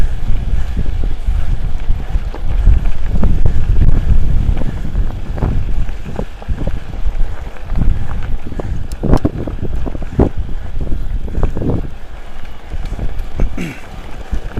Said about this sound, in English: Windy out here in the open.